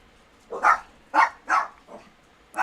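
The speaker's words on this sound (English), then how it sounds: "My dogs are barking." Dogs bark indoors at a nearby house, five sharp barks in an uneven rhythm, fairly close and loud, with no talking over them.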